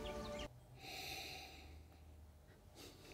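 Someone sniffs whiskey through the nose close to the microphone, drawing in a long, airy breath that fades out, then a second short intake at the end in an otherwise quiet room.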